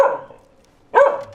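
Two loud, close dog barks sound about a second apart in an audio drama, each a sharp bark with a brief tail, with quiet between them and no talking.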